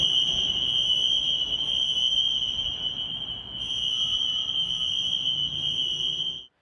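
A fire alarm in a congressional office building blares as a loud, continuous high electronic tone with a brief dip midway, steady and piercing over faint background.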